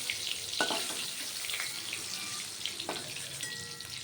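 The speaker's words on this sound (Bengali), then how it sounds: "এবারে মাছগুলো ভেজে নেব পটল তুলে নিয়ে" Pieces of rohu fish frying in hot oil for a Bengali fish curry, a steady close crackling sizzle with scattered sharper pops and no talking.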